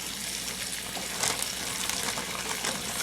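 Bacon sizzles and crackles in a pan at close range, a steady frying hiss with a brief louder burst partway through, no talking over it.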